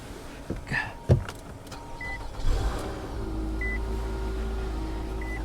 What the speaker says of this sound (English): We'll fire it up, and then we'll take a closer look around the car.